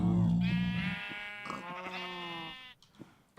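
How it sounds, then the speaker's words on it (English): Sheep in Minecraft bleating several times in quick succession, close and clear, with a few soft clicks between calls before trailing off to near silence. "Come back here, sheep."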